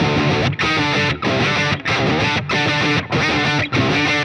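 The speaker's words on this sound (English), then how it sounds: "now if I add a pitch shifter to that" Electric guitar riff played through an octave pitch shifter pedal, adding octave-up and octave-down voices; loud, thick distorted chords in short repeated bursts separated by brief gaps, no talking.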